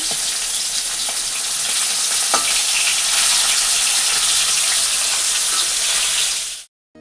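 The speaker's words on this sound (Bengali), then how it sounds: "মাছ ভাজা বসিয়ে দিয়েছি" Fish frying in a pan in a home kitchen, a loud, dense, continuous hiss of hot oil close by for several seconds before cutting off abruptly, with no talking.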